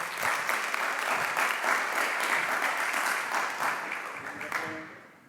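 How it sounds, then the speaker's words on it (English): Audience applause after a group presentation, a full, steady round of clapping from many people that holds for several seconds before tapering off, with a faint voice near the end. "Keep it going, clap it"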